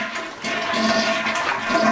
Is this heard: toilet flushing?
yes